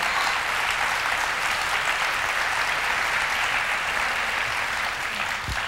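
An audience at a live comedy and talk show claps in a dense, even burst that carries on loudly for several seconds, close and sustained with no talk over it.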